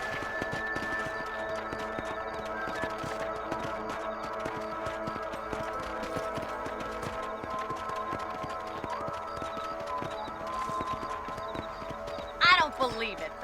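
Horse hooves clip-clopping steadily through a Red Dead Redemption game scene, a continuous rhythmic patter under game music and ambience, with a brief louder whinny-like burst near the end.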